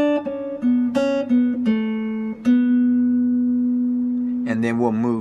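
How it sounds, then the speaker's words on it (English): A guitar plays a single repeated riff from the bridge of a song, several close plucked notes ringing out into a long sustained tone, followed by a quick burst of further notes. "Now for the bridge, we'll be playing a single riff and repeating it."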